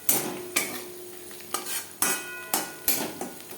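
Onions frying with red chili powder are stirred in a pan on low heat: sharp, close spoon scrapes and knocks come about every half second over a steady sizzle, with no talking.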